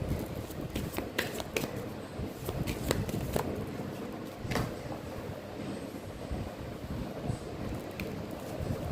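Oracle cards being shuffled by hand during a card reading: a dense, continuous riffle of papery flicks and slaps over about nine seconds, fairly close, with several sharper snaps standing out and no speech.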